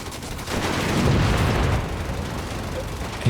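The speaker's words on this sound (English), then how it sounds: "Anti-tank grenade, but it's too early." Anti-tank grenade explosion in the WWII strategy game Company of Heroes 3: a loud, rumbling blast that swells for about a second, then a lingering rough roar of battle noise with no voices.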